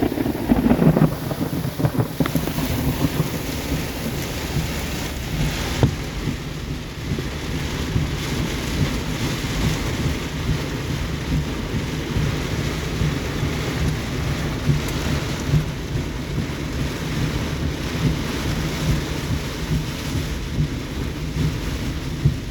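A line of severe storms over Searcy, Arkansas brings heavy, constant rain drumming on surfaces, with deep thunder rumbling underneath and gusty wind buffeting the microphone, and no voices.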